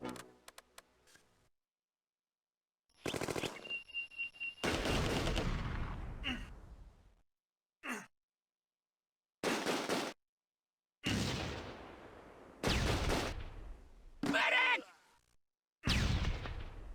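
Sharp gunshots and bursts of fire from the Close Combat: A Bridge Too Far battle at Son Bridge arrive in separate loud blasts with decaying echoes, split by abrupt stretches of silence.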